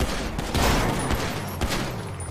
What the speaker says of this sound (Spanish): ¿Dónde hay disparos?